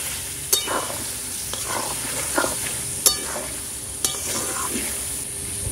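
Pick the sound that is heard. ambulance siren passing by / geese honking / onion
onion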